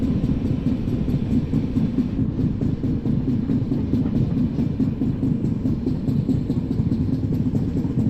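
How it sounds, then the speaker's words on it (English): A MEMU electric train runs on the Villupuram to Chennai Beach line in an Indian train simulator game, with a loud, steady low rumble and rhythmic wheel clatter on the track, continuous and close with no talk. "So the memo train is also going."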